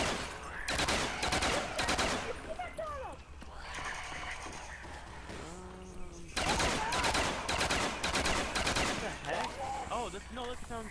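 Rapid video-game gunfire in bursts of closely spaced shots, loud and near, dropping to a quieter stretch in the middle before resuming, with people talking over it.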